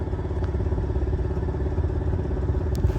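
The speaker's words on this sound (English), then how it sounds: "That noise you hear in the background is my exhaust, which I've tacked back on, but I haven't completely fixed" Rough, rattling rumble of a loose, tack-welded exhaust on an off-road vehicle crawling a trail, a steady low-pitched clattering drone with irregular thumps, close and continuous.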